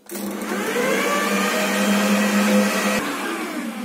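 An electric mixer beats donut dough with lemon or orange zest and salt, giving a steady, loud motor whine. It holds a constant pitch for a few seconds, with one brief dip near the end.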